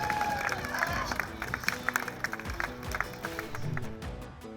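Roadside spectators cheer and clap as a rider crosses the uphill finish line of a women's road cycling race stage, the Tour of the Reservoir; a steady, fairly close crowd roar with sharp claps, a voice talking over it throughout.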